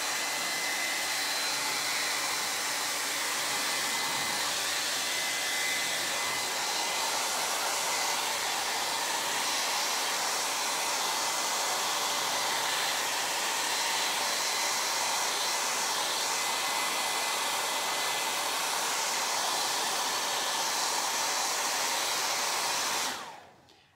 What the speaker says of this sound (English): this is using this hair dryer to dry this